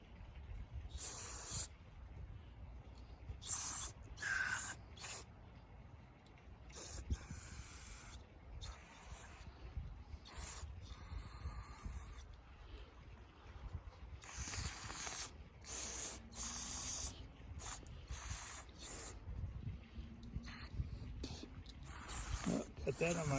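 Carburetor cleaner sprays onto Scag edger carburetor parts in short, sharp hissing bursts, repeated many times with pauses between, close and fairly loud in a quiet workshop.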